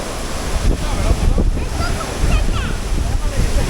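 The Athirappilly waterfall in Kerala roars in a continuous broadband rush with gusty wind buffeting the microphone, unbroken for the whole stretch.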